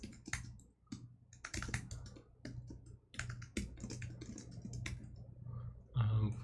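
Keys clattering on a computer keyboard while writing code for a programming contest, irregular bursts of close, quiet typing with pauses and a steady low electrical hum beneath.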